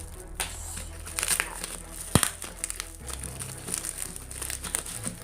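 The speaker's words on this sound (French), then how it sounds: "Alors, je vais déchirer à la main." Lego order packaging, a plastic bag crammed with plates and minifigures, is torn open by hand with steady close crinkling and crackling, a sharp rip around the two-second mark, and no talking.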